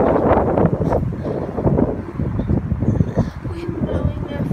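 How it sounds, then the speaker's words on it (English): Strong outdoor wind buffets the microphone in gusty, rumbling bursts while someone talks over it during a walk near tall buildings. "Wind blowing there, folks. Strong wind."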